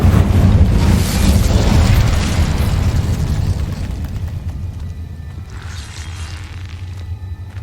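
An Incendio fire spell in Hogwarts Legacy bursts as a loud, close, roaring fiery blast with a deep rumble that slowly fades over several seconds, followed by a fainter whooshing flare.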